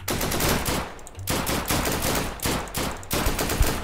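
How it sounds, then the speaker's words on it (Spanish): Sustained automatic gunfire in the Deadside video game, loud dense bursts rattling almost without pause across the whole stretch, with no talk over it. "No sé cuántos disparos le habré dado"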